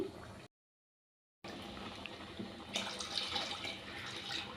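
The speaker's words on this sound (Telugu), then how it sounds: "ఈ వాటర్ కూడా ఇందులో యాడ్ చేసుకున్నాము" Water poured into a pot of hotel-style sambar curry in a home kitchen, a soft continuous pouring stream broken by a brief gap and then growing a little louder toward the end.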